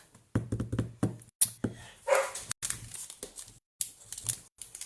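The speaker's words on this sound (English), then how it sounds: "I don't know what the dog's barking at" A pet dog barks in a series of sharp, fairly close bursts indoors, with knocks and rustling mixed in between the barks.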